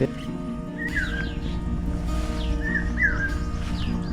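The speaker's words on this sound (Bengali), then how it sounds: "আপনারা নিশ্চয়ই চোখ গেল পাখির ডাক শুনতে পাচ্ছেন" Common hawk-cuckoo calling in a mango orchard, several sharp rising-then-falling whistled notes spaced irregularly over a steady background hum, fairly distant and moderate in level, with no voices.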